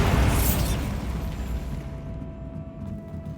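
The Bombarda blast spell goes off in Hogwarts Legacy as a loud, close explosion. Its heavy rumbling boom opens at full force and fades slowly into a lingering low roar with a faint steady tone underneath.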